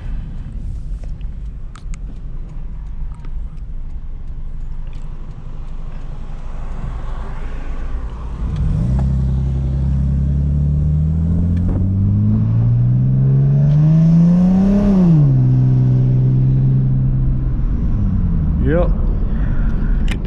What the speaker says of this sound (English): let's get a little more throttle here.